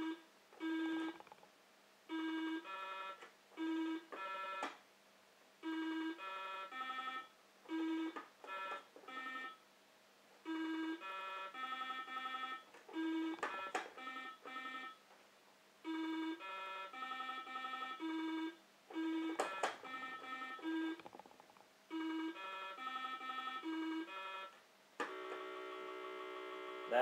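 A 1979 Milton Bradley Simon electronic game beeps through a run of short, evenly paced electronic tones at moderate volume over a steady background mains hum, ending in a long, buzzy sustained error tone.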